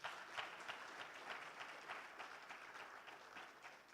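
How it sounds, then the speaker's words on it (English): Audience applause at a Kwibuka30 remembrance event, a dense steady wash of clapping that runs the full length, moderately distant and with no voices over it. "Can we give a round of applause to our people who have been patient?"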